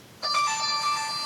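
A phone ringtone starts abruptly indoors during a Christmas crafting session, a bright sustained electronic tone that rings alone and continues to the end.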